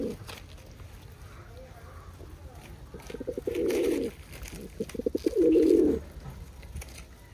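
Pigeons coo nearby in two clear, low throaty bursts over a quiet background with faint rustling and a murmuring voice.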